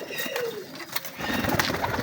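Pigeons, breeder birds kept in a loft, give soft cooing calls in short repeated bursts, close by and fairly quiet, with faint background rustle.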